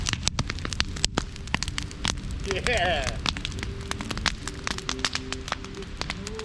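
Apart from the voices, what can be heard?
rain falling in woods while camping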